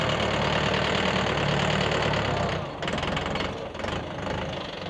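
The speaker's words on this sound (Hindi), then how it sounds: "3700 सीसी इंजन" The 60-horsepower, 4-cylinder 3700cc diesel engine of a YTO EX604 excavator runs loud and close, a steady heavy rumble that shifts and dips slightly as the load changes partway through.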